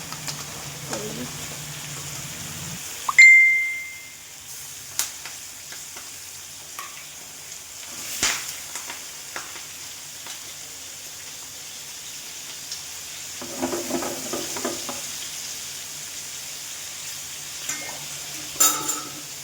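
Fish sizzling in a pan on a home stove, a steady faint frying hiss with scattered stirring clatters and utensil knocks, with a brief tone and some soft voices in the background.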